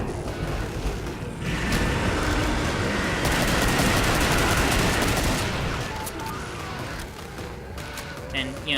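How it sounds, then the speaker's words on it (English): Rapid sustained gunfire from an AK-12 in the game Killing Floor, a loud dense burst lasting several seconds before tapering off, with game sounds continuing around it. "I'm going to use this AK-12 shotgun with a very high DPS to try and put him down before he can kill me"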